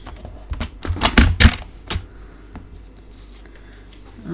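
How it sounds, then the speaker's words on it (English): Cardstock being cut down for a Stampin' Up starburst card, a quick cluster of close, crisp snips and taps followed by quieter handling noises, with no talk. "Let me just cut that down and show you."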